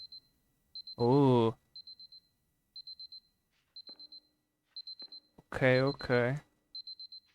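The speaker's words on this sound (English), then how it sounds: "That's not the same alarm. It's a different one." A video game alarm chirps in short, evenly spaced high electronic bursts, steady and clear, while a person talks over it twice.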